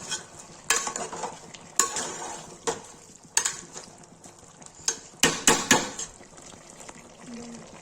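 Chicken with red chili and turmeric stirred in a pan, a spoon scraping and clattering in irregular loud strokes over a faint sizzle.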